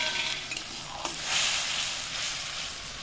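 Spice paste frying for a vegetarian egg posto curry, a soft close sizzle with scraping stir strokes in the pan and a brief clink, steady and quiet, no voices.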